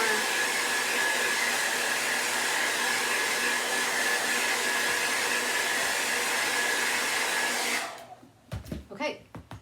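A hair dryer blows steadily at close range over a finished burlap stool for most of the stretch, a loud continuous whoosh that cuts off near the end, leaving a few light handling sounds.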